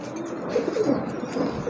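High-flying club pigeons coo softly in a steady low murmur, several gentle rolling calls close by with faint background noise and no talking.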